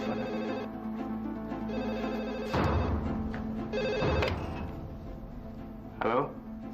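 A household telephone rings in repeated electronic trills, loud and near, with voices speaking over and between the rings.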